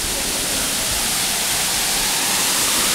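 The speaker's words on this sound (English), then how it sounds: "We just got to our first waterfall for today, and it's called Inambakan Falls." Inambakan Falls in South Cebu gives off a steady, dense roar of falling water that fills the air at close range and does not let up, with no voices.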